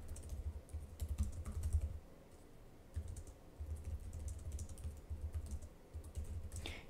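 Typing on the keyboard of a Lenovo ThinkPad X1 Fold foldable laptop, close soft key clicks in quick bursts with a short pause, no talk.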